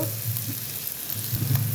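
Garlic paste frying in a pan, a steady close sizzle with soft stirring scrapes and no voices.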